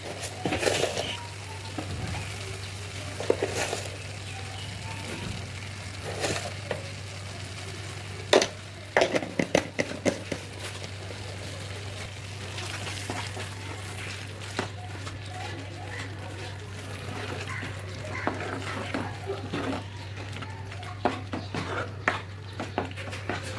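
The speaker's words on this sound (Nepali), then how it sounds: "अब यसलाई चलाउँदै छोप्दै गरेर पकाउने" Mango and tomato pickle with sugar cooking in a pan, a soft steady sizzle under irregular scraping and clinking of a spoon stirring against the pan, alongside a low constant hum.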